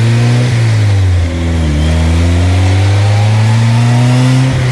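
DF Goblin street-legal go-kart engine pulling hard through the gears, a loud, close buzzing drone whose pitch climbs, dips briefly at each shift, then climbs again.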